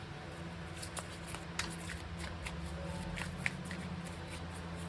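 Tarot cards shuffled by hand, soft rapid riffling and light slaps repeating over a faint steady background hum, fairly quiet and close.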